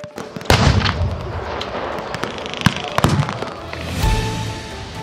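Cannon and mortar fire at a battle reenactment with tanks, trucks and heavy machine guns: several loud, sharp booms and cracks go off irregularly, with rumbling echoes and crowd noise between them.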